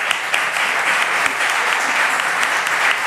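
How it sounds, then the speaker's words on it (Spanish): Audience applause at a book presentation in Pamplona, steady dense clapping from a crowd lasting about three seconds at a constant level, with no voices over it. "Venga, un aplauso."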